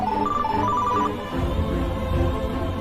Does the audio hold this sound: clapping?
no